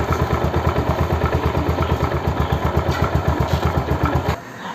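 A motorcycle engine fitted with a side stand cutoff safety system runs with a fast, even pulsing beat close by, then stops abruptly after about four seconds.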